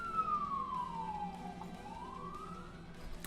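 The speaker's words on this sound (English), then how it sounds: "Ambulance speeding by." An ambulance siren sweeps down in pitch and then back up as the vehicle speeds past, a single clear wail standing out over steady background hum.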